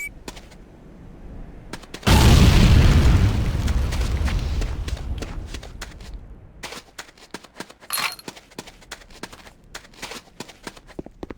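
C4 charges detonating in the Command & Conquer Renegade tutorial: a sudden loud blast with a long rumbling roar that slowly fades, followed by scattered clicks and a smaller burst, with no talk.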